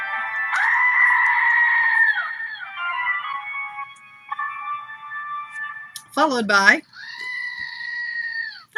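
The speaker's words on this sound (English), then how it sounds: "That's Gerald, my screaming goat, and his Christmas version, or Halloween version of Gerald, the screaming goat." Squeezable screaming goat toys, a regular version and a holiday version, letting out several long, warbling, human-like goat screams and bleats, loud and close, one sharply wavering cry near the end, with a brief spoken phrase between them.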